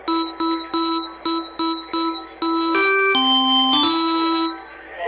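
Electronic keyboard tones over a phone line play the Jingle Bells melody: quick repeated short notes followed by longer held ones, loud and bell-like, with no talking.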